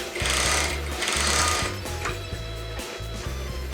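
A sewing machine running a regular straight stitch through beret fabric, a loud, close mechanical chatter in several quick bursts separated by short stops.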